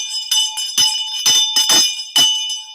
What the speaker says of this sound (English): Yes, the bell.